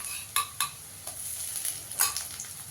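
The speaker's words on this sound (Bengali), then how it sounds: "আদা রসুনটা বাটা দিয়ে একটু ভালো করে কষিয়ে নেব" Ginger-garlic paste and onions fry in a pan with a soft continuous sizzle, broken by a few sharp scrapes and clinks of a spoon stirring against the metal, close by with no talking.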